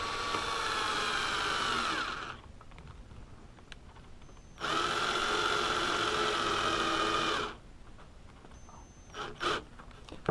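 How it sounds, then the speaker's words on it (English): Cordless drill driving screws into a wooden role-playing-game cabinet, two sustained bursts of whirring motor of about two and a half seconds each, separated by a quiet pause, with a short trigger blip near the end. "I'm going to still use my corded drill, my cordless,"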